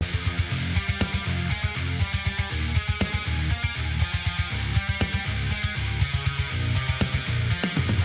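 A heavy, distorted metal electric guitar riff with chugging palm-muted rhythm and punchy accents, played loudly and without any voices.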